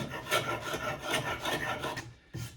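Glue being scraped off a salvaged wooden wainscotting post, a series of close, rasping strokes in a quick irregular rhythm, ending with a short pause and one final scrape, with no talk.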